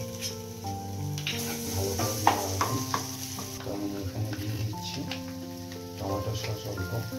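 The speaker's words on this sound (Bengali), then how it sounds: "এতে দিয়ে দেবো একটু চিকেন মশলা, আমি এখানে চিকেন মশলা 2 চামচ অ্যাড করলাম, ভালো করে মিশিয়ে দিচ্ছি।" Chicken masala is stirred into frying tomatoes in a pan for a Bengali aloo dum, giving a continuous close sizzle with scraping stir strokes throughout.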